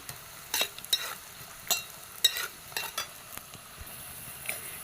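Sliced ginger is stirred and sautéed in a pan, with repeated short scraping strokes of a spoon over a faint background sizzle.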